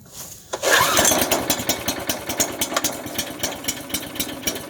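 Old generator engine, choked, starting on the first pull after sitting for six years: a short pull rasp, then the engine catches and runs loud and close with a rough, pulsing idle.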